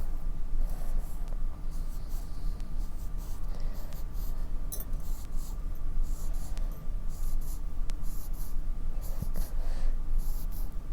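A pencil draws vine leaves on paper for a 2nd-grade jungle background: close, scratchy strokes come in short bursts with small pauses and taps between them, faint room hum underneath, and no voices.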